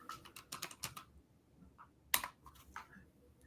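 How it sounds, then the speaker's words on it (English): Quiet typing on a computer keyboard, a quick run of soft key clicks followed by a sharper tap and a few scattered strokes, faint and close. "you might have heard my typing"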